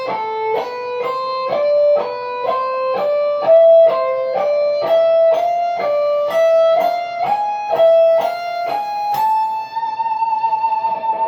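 An electric guitar plays a slow ascending harmonic minor scale, one clear note at a time, with notes climbing steadily before ending on a held tone.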